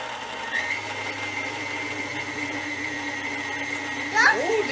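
A stand mixer whirs on its low setting, mixing flour into brownie batter with a steady hum and whine throughout, and a voice chirps near the end.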